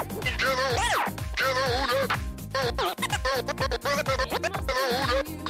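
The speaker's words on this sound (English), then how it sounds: "you can scratch on, like, a vocal like this" A DJ scratches a vocal sample on turntables, producing rapid back-and-forth warbling vocal scratches layered over a steady beat, loud and continuous throughout.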